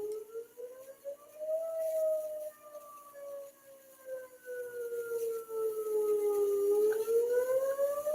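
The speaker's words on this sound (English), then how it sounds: "Our siren's going off." A wailing siren rises and falls in slow sweeps, sounding steadily for several seconds from some distance, loud and continuous with no voices.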